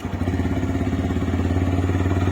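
A TVS Raider 125 motorcycle engine idles close by with a steady, loud, throbbing putter and fast, even pulses for a couple of seconds. No one speaks over it.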